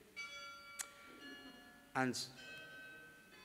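A bell rings in a lecture hall during an inaugural university lecture, its sustained tone sounding moderately in the room while someone speaks over it.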